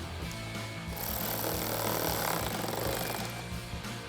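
A power driver whirs steadily as screws are run into the plastic housing of a Raxiom CXR LED headlight on a 2018-2020 Ford F-150, a loud, continuous mechanical buzz close by.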